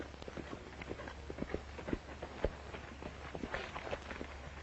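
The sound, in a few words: horse galloping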